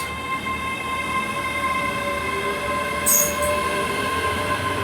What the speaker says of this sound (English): departing out is 385-103 on the service to Glasgow Queen Street